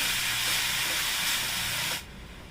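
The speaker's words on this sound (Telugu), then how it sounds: "అదే ఆయిల్లో ఒక బీట్రూట్ తురుము వేసుకున్నానండి నేను బీట్రూట్ వేసుకుని ఫ్రై చేసుకోవాలండి" Grated beetroot fries in oil in a pan, giving a loud, steady hiss for about two seconds before it cuts off abruptly.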